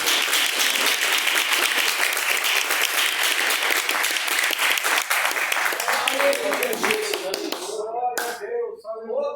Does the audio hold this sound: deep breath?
no